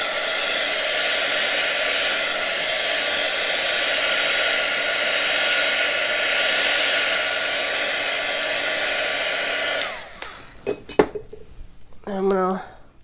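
A hair dryer blows a steady, loud whoosh over a Chalk Couture chalk transfer on a Greyson board for about ten seconds, then cuts off. A few light clinks and a brief voice follow.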